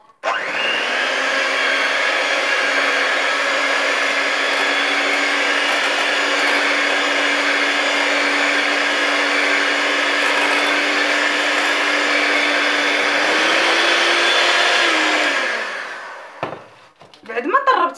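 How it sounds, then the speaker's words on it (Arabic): An electric mixer beats eggs, oil and sugar for a tiger cake, making a loud, steady whirring hum that runs unbroken for about fifteen seconds, rises slightly in pitch, then winds down and stops. "بعد ما طربت هاد الزيت وهاد الشيء، الزيت والبيض وشويه ديال السنيده والسكر"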